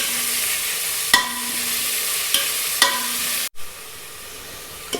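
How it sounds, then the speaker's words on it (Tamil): Onions sauté in hot oil in a pot for chicken biryani, giving a steady close sizzle broken by a few sharp knocks of a stirring spoon. "ஆனியன் ஆட் பண்ணிக்கிட்டு நல்லா வதக்கி விடுறோம்."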